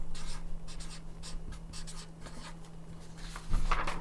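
Pencil writing out fourth-grade math work by hand on paper, a run of short scratchy strokes and scribbles close up, with a steady low hum underneath and no talk.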